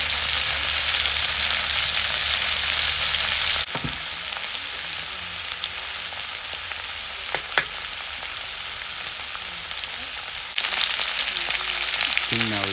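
Onion frying in hot oil in a pan gives a steady, loud sizzle that continues throughout, easing slightly in the middle stretch with a few soft stirring knocks before the full hiss returns.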